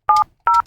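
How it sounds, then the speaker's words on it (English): Two short touch-tone telephone beeps sound in quick succession as a phone number is dialed, each clear and close, with no voices. "let's dial up"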